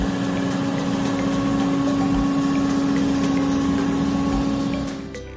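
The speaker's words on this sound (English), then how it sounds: "seeing an excavator that appears to have undergone modifications, performing its task of digging soil in a relatively narrow and steep area" A modified excavator digs soil on a narrow, steep, muddy slope, its engine droning steadily and loudly with a low pumping hum throughout before easing off at the end.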